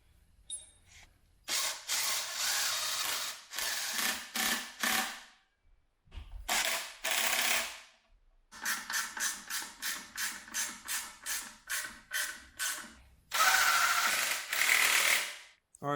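Bolts being run in by hand with a ratchet during a clutch, transmission and engine install on a turbo BMW E36, giving close, loud bursts of rapid clicking in repeated runs with short pauses between them.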